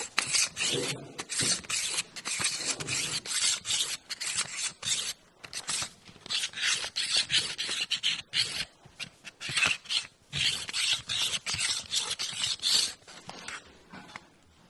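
A diamond sharpener scrapes back and forth along the back edge of a classic hand tool in quick, close, rhythmic strokes with brief pauses, loud and raspy with no talking.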